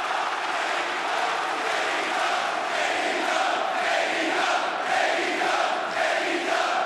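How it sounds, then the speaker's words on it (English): A sold-out wrestling crowd in St. Louis at AEW Dynasty 2024 roars in a dense, sustained wall of cheering and shouting that swells slightly and never lets up. "A deafening reaction from this sold-out crowd in St. Louis"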